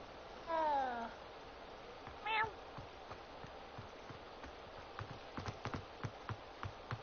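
A cat meows twice in the video game Hogwarts Legacy, two short rising calls near the start, followed by light rhythmic clip-clop footsteps and faint game ambience.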